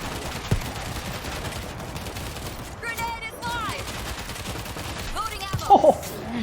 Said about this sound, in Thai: ยิงไม่โดนซอมบี้ยิงโดนพื้นอย่างเดียวเลยกู